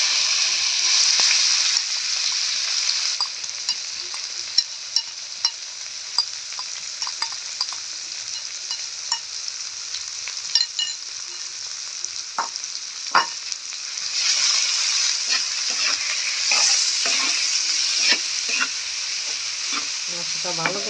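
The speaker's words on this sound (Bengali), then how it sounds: "এবার ম্যারিনেট করে মাংসটা দিয়ে দিব।" Marinated chicken fries in hot mustard oil in a wok, giving a loud, constant sizzle broken by frequent stirring scrapes and spatters, with no talking.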